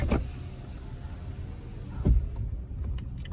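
An electric car window motor whirs briefly, then a thump and a second short whir, followed by faint outside ambience.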